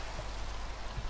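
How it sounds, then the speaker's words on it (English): Steady rain falling through the night, a continuous close wash of patter with no speech, alone and fairly even throughout. "It's been raining all night."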